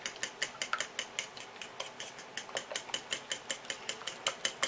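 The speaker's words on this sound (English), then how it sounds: "Now you want to scramble the egg really well." A fork whisks egg in a bowl for cauliflower pizza crust, producing a rapid, even run of bright metallic clicks and taps against the dish, close and fairly quiet with no talk.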